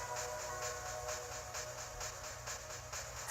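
A train rumbles in the video game Zelda: Spirit Tracks, a faint, steady rolling drone with soft regular rhythmic chuffs and a light hiss.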